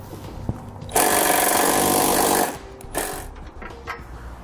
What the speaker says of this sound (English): We're going to use a 13mm socket to remove those.